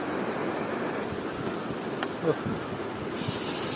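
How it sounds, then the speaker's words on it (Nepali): The Teesta river rushes steadily with a broad, constant roar, heard from close by with no talking. "र यो चाहिँ टिस्टा खोला"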